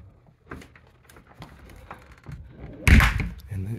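A closet door on a piano hinge swings shut with a solid thunk near the end, preceded by soft handling noises and movement in a house.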